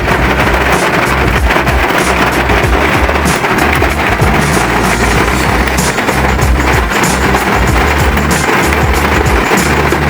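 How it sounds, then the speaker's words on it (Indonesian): Rain drums steadily on the roof of a Karimun Wagon R GS, heard from inside the cabin as a dense, continuous patter with no break, moderately loud and alone without talk. "Ya, ini suara hujannya ya."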